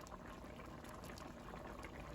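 Puerto Rican pollo guisado chicken stew simmering in a pot with added water, giving a steady close bubbling and sizzling texture that continues evenly throughout, with no voices.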